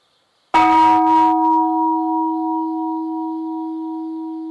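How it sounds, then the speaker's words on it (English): A single bell strike at a Zen monastery in Japan, sounded by a student as a wake-up call; a sharp metallic onset followed by a long, steady ringing tone that slowly fades, with no voices. "One of the Zen students sounds a wake-up bell."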